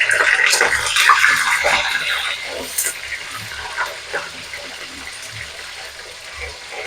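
Raw mango pieces drop into hot oil in a wok after dried red chillies have fried, setting off a loud hissing sizzle that surges at first and then gradually settles to a softer crackle, close up with no talking.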